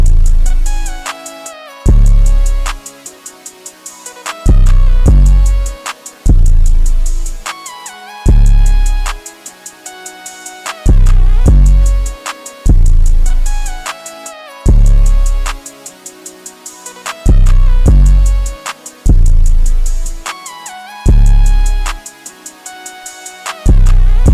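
Hard-hitting rage trap beat built in FL Studio, with booming 808 bass and kick hits pulsing in a steady bar-by-bar rhythm under bright, buzzing synth leads, loud and dense throughout with no voices.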